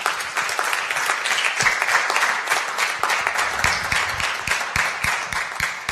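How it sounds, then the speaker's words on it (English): An audience applauds the panelists at the close of a startup conference panel, a steady wash of many hands clapping at full strength throughout, with no talk over it. "Give them a round of applause."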